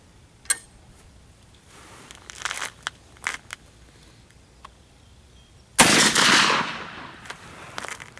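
A Pedersoli Rolling Block .45-70 rifle fired with a 54-grain powder load gives one sharp, loud close blast with a ringing, decaying tail near the end, preceded by quiet handling clicks and rustles.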